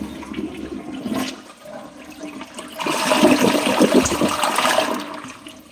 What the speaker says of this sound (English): I got a flushing toilet.